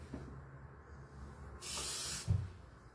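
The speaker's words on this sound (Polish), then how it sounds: "I doleję trochę wody jeszcze." Water is poured into a pot already holding about 100 ml of milk: a steady hissing stream lasting under a second, followed by a dull low thump, in an otherwise quiet kitchen with no talking.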